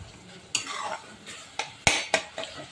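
A spice mixture roasts in a pan and is stirred with a metal spoon, sharp scraping clinks recurring every half second or so over a soft sizzle.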